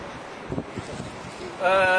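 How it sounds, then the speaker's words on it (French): Wind blows steadily across an open beach on an estuary shore, a continuous broadband rush close to the microphone with gusty swells, rising sharply near the end; a few faint voice-like murmurs sit underneath. "vous voyez l'action du vent, elle est quand même assez importante"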